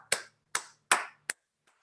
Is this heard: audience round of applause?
yes